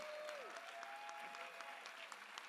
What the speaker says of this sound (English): Let's give another round of applause to Angelica Salas